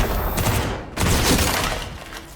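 Gunfire from a sci-fi firefight in Star Trek: Picard Season 2, Episode 9: loud, dense, overlapping bursts of shots that keep going, with a short lull near the middle before the barrage picks up again.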